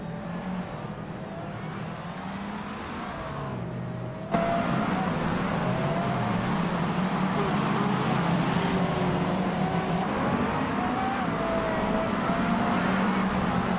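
Race car engines in a racing video game, including a 2018 Fittipaldi EF7, a sustained high engine whine with gear-shift pitch sweeps. It jumps louder partway through and stays steady and close, with no talk.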